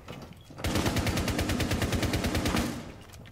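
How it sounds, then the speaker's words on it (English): Rapid automatic gunfire in the video game Rainbow Six Siege, a sustained burst of tightly spaced shots lasting a couple of seconds, loud and close with no talking. "I'll shoot him in the head."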